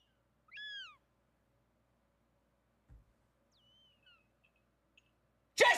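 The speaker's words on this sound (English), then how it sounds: "You let fucking birds into the goddamn beer garden, man." Birds calling in a beer garden during a WWE Raw broadcast: a short hooting, owl-like call, then faint chirps and a brief thump in near silence, ending with a sudden loud burst.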